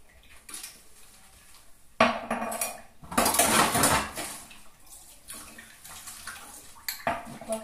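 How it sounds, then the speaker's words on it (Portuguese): Dishes, pots and cutlery clink and clatter in a kitchen sink as they are washed, with bursts of louder scraping and knocking over running water, close by. "Tem bastante louça pra lavar"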